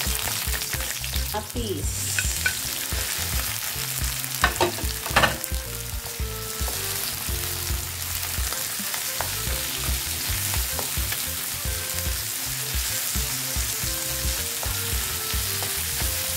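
Garlic and onion sauté in hot oil in a pan for a Filipino tuna dish, a loud dense continuous sizzle with occasional scraping stirs and a few sharper crackles, close and steady throughout with no talk.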